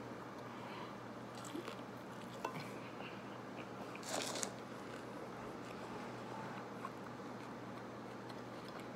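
Someone bites and chews a brown trout fish taco, with soft, close crunching and squishy mouth sounds over a low, steady background hum.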